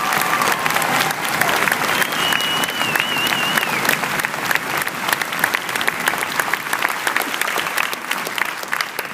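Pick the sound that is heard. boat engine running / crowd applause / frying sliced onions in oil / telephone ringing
crowd applause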